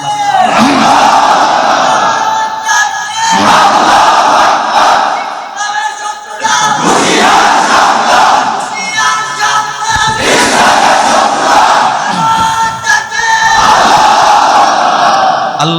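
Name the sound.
crowd chanting takbir slogan Allahu Akbar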